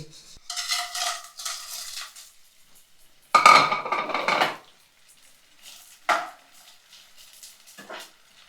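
Ghee mixture for dink ladoo being stirred in a pan, bursts of scraping and clinking utensil strokes separated by quiet gaps, close and moderately loud, with no voices.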